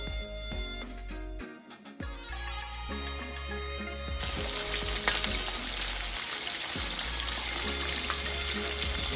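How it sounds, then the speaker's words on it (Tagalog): Chicken pieces frying in a pan for Jollibee Chicken Joy style fried chicken, a steady close hiss and sizzle that grows fuller after a few seconds, with brief clinks and stirring noises earlier. "Cook the chicken until golden brown both sides and adjust the heat to medium heat."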